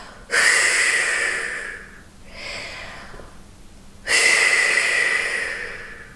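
A slow, controlled exhale during a core-stabilising exercise, drawn from the pelvic floor up through the lower abs. Two long, steady breaths out sound close and clear, with a softer, shorter breath between them and no talking.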